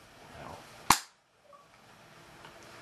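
A single sharp gunshot from Modern Warfare 3 multiplayer cracks out loud and close, followed by a quick decay into near silence and faint game ambience.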